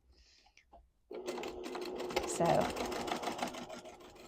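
A sewing machine whirs steadily at close range with a rapid mechanical stitching rhythm, sewing a basted zipper on a quilted device sleeve, starting after a brief spoken word and running continuously.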